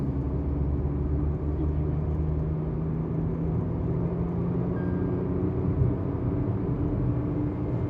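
A Tata Altroz Racer car pulling hard in third gear, a loud, steady engine drone and road rumble heard from inside the cabin throughout.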